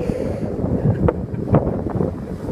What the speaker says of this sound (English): The wind's really giving it a hard time.